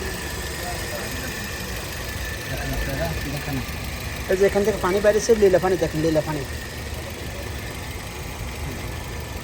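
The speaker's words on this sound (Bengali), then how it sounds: "এই দেখেন ইঞ্জিনের সাউন্ডটা শুনে আপনারা নিজে কানে দেখেন" A used Toyota Yaris engine idles with a steady, even hum while someone talks over it close by, his voice rising louder in the middle before the plain idle carries on.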